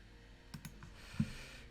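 Faint computer mouse clicks during digital mapmaking, a couple of quick light taps and a soft single click over a quiet room hum.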